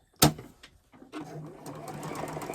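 A sewing machine runs along a marked line to join quilt binding, starting after a sharp click and then stitching in a quick steady rhythm, close and fairly loud.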